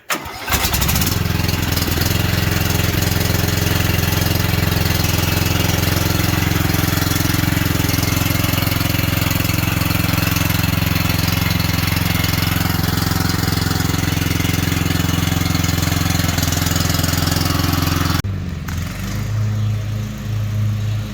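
A Cub Cadet XT1 lawn tractor engine runs loud and steady at close range with a constant droning hum, then cuts off abruptly near the end, leaving quieter background.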